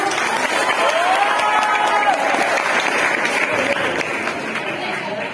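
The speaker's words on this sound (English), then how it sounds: "Give him a huge round of applause." An audience at a school Teachers Day program applauds steadily, a dense, loud wash of clapping from a crowd that holds for several seconds before easing slightly.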